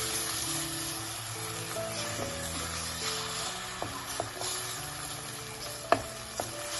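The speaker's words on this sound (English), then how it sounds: "add this to our melted butter and just cook them like as if you would cook scrambled eggs" Eggs cook in melted butter as they are stirred into a scramble, giving a steady, close sizzle under a few light scraping taps of a utensil on the pan.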